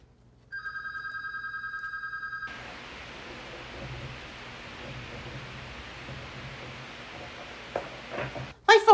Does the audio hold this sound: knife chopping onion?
no